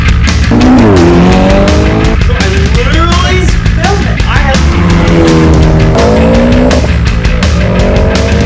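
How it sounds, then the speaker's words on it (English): A loud rally car roars past nearby, engine pitch climbing and dropping as it shifts gears, with people talking over it. "rally car"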